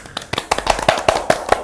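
A few people applaud together at a small youth counseling session, with brisk, evenly spaced claps ringing out up close over a short moment.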